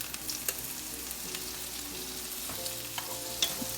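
Rosemary and garlic fry in melted butter in a pan, a quiet steady sizzle broken by a few small crackles and pops and light stirring clicks, with no voices.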